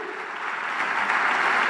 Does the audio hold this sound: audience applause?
yes